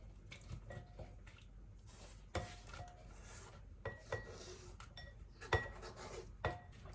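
Sliced carrots being mixed in a hickory liquid smoke marinade, soft wet sloshing with intermittent clinks of a utensil against the bowl, quiet and close.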